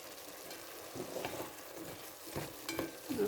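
White onion and celery sizzle faintly in a pot as a spoon stirs them, with soft scraping and clinks rising over a low, steady frying hiss.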